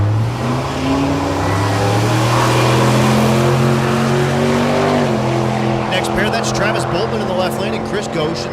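Diesel BMW and Ford Mustang drag racing down a strip, engines droning loud and close with steady rising tones, a shift in pitch midway, and crackling bursts near the end, with an announcer talking over it.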